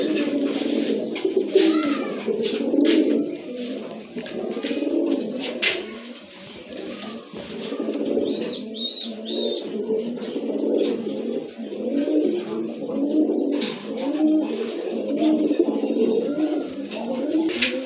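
A male giribaz pigeon with feathered feet coos repeatedly, the soft throaty cooing rolling on continuously at close range for the whole stretch with no talking.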